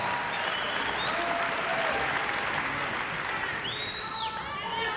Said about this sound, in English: I think they deserve a little bit more applause for that.